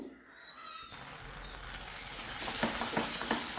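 Leftover rice and carrot being stirred in a pan on high flame: a soft steady sizzle builds, then a run of quick scraping stir strokes lands near the end, close and moderately loud.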